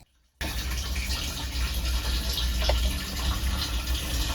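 White vinegar pouring out of a Range Rover Classic fuel tank, starting abruptly and then a steady, close, splashing gush of liquid that runs on without a break.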